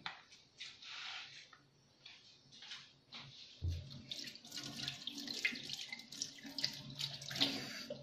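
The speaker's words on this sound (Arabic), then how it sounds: "نغسل يدي" Tap water runs into a sink while hands are washed in a kitchen, soft splashing at first that turns louder and more irregular with rubbing and dripping, close and without talk.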